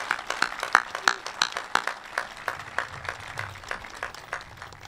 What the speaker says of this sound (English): One last final applause for all of our student speakers and our valedictorian and salutatorian